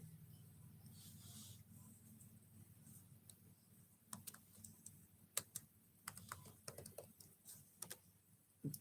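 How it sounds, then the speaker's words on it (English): Someone types a name on a computer keyboard at a zoo. Key clicks come near and quiet at first, then turn into denser irregular bursts with a few sharper taps over a faint low hum. "I'm going to type the name."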